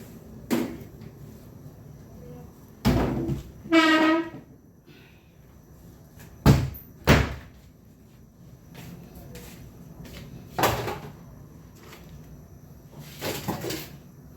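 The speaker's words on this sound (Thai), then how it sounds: "แก๊สไม่แรงไปปิดประตูก่อน" In a home kitchen, a door is shut on a windy day, giving a few sharp knocks and bangs spread apart in time, plus a short rattle, against a quiet background.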